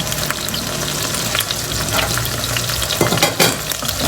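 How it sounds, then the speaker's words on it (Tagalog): Chicken sautéing in a pan for adobo sa gata, a loud dense sizzle running throughout with spatula scrapes and stirring knocks, stronger toward the end. "Ako sinasangkot siya ko muna yung chicken."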